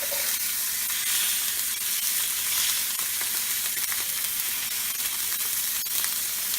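Beef sears in a very hot pan with olive oil, giving off a loud, steady hiss and sizzle that runs on unbroken and close, with faint crackles but no voices.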